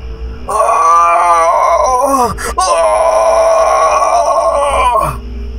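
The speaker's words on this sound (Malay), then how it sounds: "Saya menggigil apabila dia mengerang-ngerang lagi." A man groans in pain, loud and close, in one long drawn-out moan that wavers in pitch and breaks briefly halfway before continuing.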